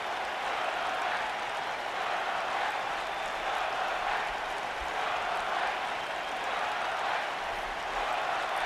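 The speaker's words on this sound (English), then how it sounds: "Crowd agreeing to that, it seems." A wrestling crowd at a DCW Attitude show roars in steady, continuous cheering and applause, a dense wash of many voices close and loud with no single words standing out.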